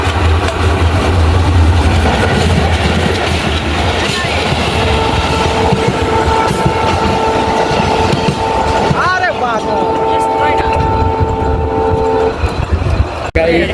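A passenger train stands on the line near Phultala on the way to Daulatpur, Khulna, with a loud, steady engine rumble, clanking and sustained horn tones. People talk over the noise.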